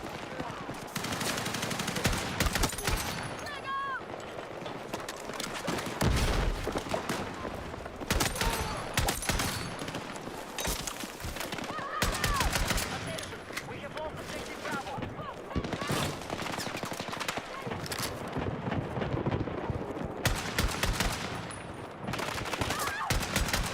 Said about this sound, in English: You know what this gun feels like? A worse M60.